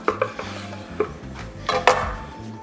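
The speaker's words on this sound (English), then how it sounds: "So let's slice into it." A knife cutting through a firm slab of home-smoked center-cut bacon on a board, giving a few close, sharp scraping and clinking strokes with faint rubbing between them, no talking.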